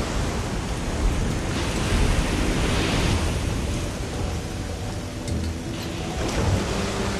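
Steady, dense rain pours through a thunderstorm in the video game Risen 2, with low rolling thunder rumbling continuously underneath and no voices.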